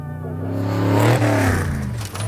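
A desert race vehicle's engine revs up and climbs in pitch, then eases back, loud and close with a steady harmonic drone.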